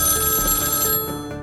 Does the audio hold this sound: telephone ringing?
yes